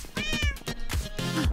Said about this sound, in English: I heard a meow.